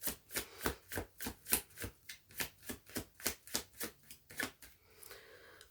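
Tarot cards being shuffled by hand in a steady run of about fifteen crisp riffling bursts, each a quick papery snap, close and fairly loud, tapering into a softer rustle at the end.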